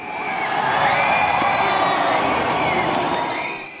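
A packed gym full of basketball fans in Bauru cheering at a semifinal game, a loud sustained roar of shouting and whooping voices filling the space throughout.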